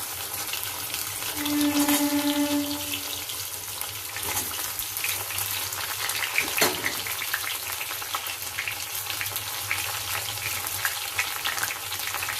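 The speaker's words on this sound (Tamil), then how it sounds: "எண்ணெய் ஊற்றிட்டு அது 2 நிமிஷம் காஞ்ச பிறகு அந்த வேக வச்ச கிழங்கு அதில் போட போகிறேன்." Boiled colocasia (seppankizhangu) sizzles in hot oil in a pan, making a steady, close crackling fry with a few louder spits and stirring sounds along the way.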